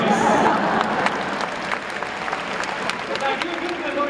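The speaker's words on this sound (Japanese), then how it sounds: "いかがですか、この大歓声。" A large baseball stadium crowd roars and cheers after a home run, a loud continuous wash of noise with a voice speaking over it.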